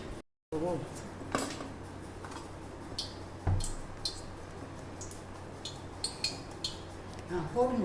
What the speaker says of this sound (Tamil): இந்த மாவை நல்லா இந்த மாதிரி பஜ்ஜி மாவு மாதிரி போட்டு நல்லா மிக்ஸ் பண்ணிக்கணும்